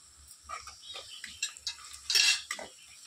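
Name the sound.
stirring onions with salt and sugar in a pan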